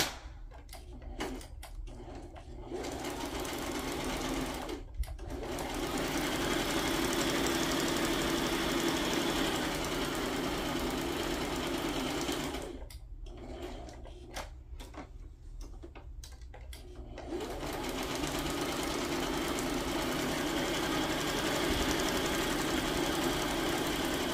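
Sewing machine stitching a zigzag straight down the middle of a paper page, a steady mechanical whir running almost continuously for about twenty seconds with short pauses near the start and midway.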